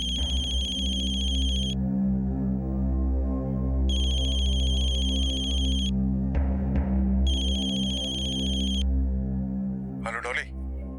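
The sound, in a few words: phone ringing with an incoming call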